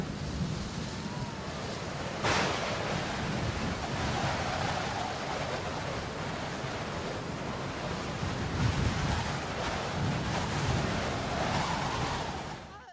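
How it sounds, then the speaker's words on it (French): Roaring wind and crashing waves fill the clip, a constant heavy rush of storm noise with no clear voices. "le vent est encore plus violent."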